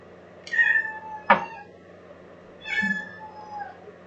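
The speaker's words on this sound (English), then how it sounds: "And the cat begging." A cat begging for food, two drawn-out meows about two seconds apart, close and clear over a quiet room hum.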